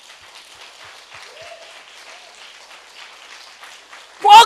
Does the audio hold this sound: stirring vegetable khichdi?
no